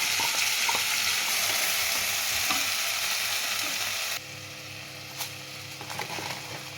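A spice paste of ginger, green chilli and tomato sizzles and fries in a hot pan, loud steady crackle that drops sharply partway through, then quieter bubbling with a few stirring clicks.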